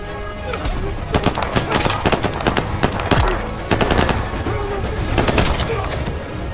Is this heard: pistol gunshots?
yes